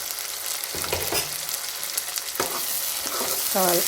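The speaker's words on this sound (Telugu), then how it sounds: "ఈ అల్లం వెల్లుల్లి పేస్ట్ వేగేంత వరకు అయితే ఒక నిమిషం సేపు" Ginger garlic paste fries for chicken curry, a steady bright sizzle throughout. Several clinking spoon strokes against the pan cut through it as the paste is stirred.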